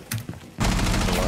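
Burst of gunfire in the tactical shooter Rainbow Six Siege, starting abruptly after a short quiet lead-in and holding loud and dense to the end, with faint chatter before it.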